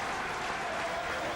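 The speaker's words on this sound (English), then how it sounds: "And Nick Pinkney getting a well-earned round of applause." Crowd at a rugby league match breaking into a dense, steady round of applause, continuous clapping throughout with no voices standing out.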